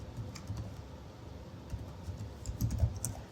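Someone types a terminal command on a computer keyboard, producing a quick run of close, light key clicks with no talking.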